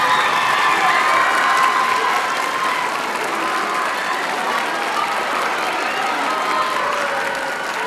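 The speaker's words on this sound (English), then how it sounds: "Clap for the people." A school farewell ceremony audience standing and applauding in a hall, a dense, loud wash of clapping with some cheering and children's shouts, steady throughout.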